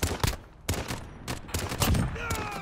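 Gunfire in the game Call of Duty: Modern Warfare during a gunfight on the Rust map: loud, close bursts of repeated shots with rapid cracks and booming tails, a player's voice briefly heard among them.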